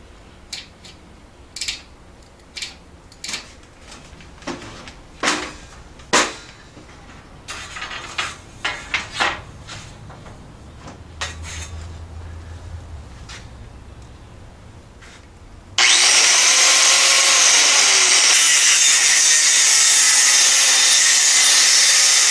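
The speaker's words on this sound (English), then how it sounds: "side grinder with a cutting blade on it to chop that off, which worked quite nicely on that soft aluminum" Angle grinder fitted with a cutting blade chopping through a soft aluminum garage door seal: a series of scraping, rasping strokes and clicks, then a sudden loud, steady high-pitched whine of the blade cutting metal.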